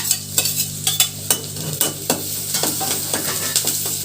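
Curry leaves, dried red chillies and two large green chillies crackle and sizzle in hot oil in a pan, with rhythmic stirring scrapes from a spoon recurring steadily throughout, up close.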